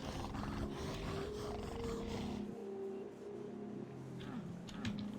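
A monstrous dog in the Doom mod Myhouse.pk3 lets out deep, growling roars, a couple of sustained rumbling bellows with snarling tones, moderately close over a faint ambient background, without speech.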